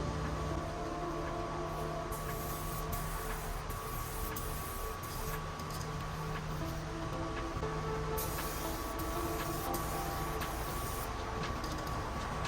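An aerosol can sprays a light coat onto a car headlight, producing a steady close hiss that runs almost continuously, broken by short pauses between passes.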